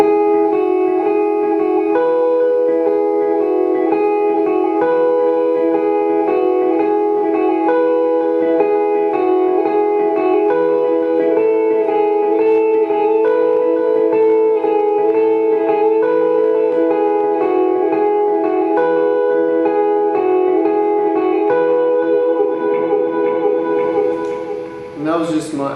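An electric guitar runs through an 808 overdrive pedal, a compressor and a delay, playing a sustained, lightly driven melodic passage for about twenty-five seconds, steady and close, with echoing repeats trailing under the notes before a brief handling noise at the end.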